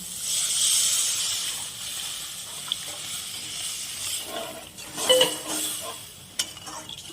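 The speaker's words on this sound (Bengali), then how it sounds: "মশলাটা ভালো করে কষানো হয়ে গেছে, এবার পরিমাণ মতো জল দিয়ে দিচ্ছি।" Water is poured into fried spice paste in a pan for a tengra fish curry, giving a steady bright hiss and sizzle with a few sharp metallic clinks near the end. Nobody speaks.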